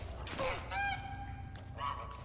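Duck in The Unfinished Swan video game giving a few loud, close, honking quacks with a short gap between calls, over a low background hum.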